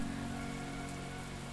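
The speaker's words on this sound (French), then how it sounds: "il faut que j'arrête la pluie" Soft, steady rain patters evenly in the video game XING: The Land Beyond, a faint continuous wash of falling water with no voices.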